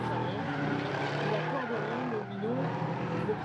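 E-Series BMW drift cars at a French Drift Championship round in Tours, engines roaring steadily with tires squealing and skidding throughout, a commentator talking over the noise.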